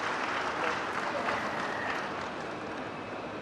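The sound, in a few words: audience applause welcoming the panelists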